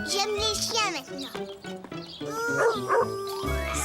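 A cartoon dog in a Caillou episode gives several quick yips and barks. Lively speech and background cartoon sound are mixed in with the barking.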